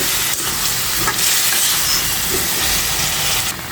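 Pangas fish curry with spices sizzles steadily in a covered pan, a loud, continuous frying hiss with no voices.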